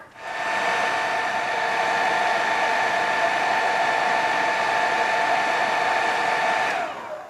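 A hair dryer blows in one steady, loud, unbroken whoosh for about six seconds, drying paint on diorama steel bars, then cuts off abruptly, with no voices.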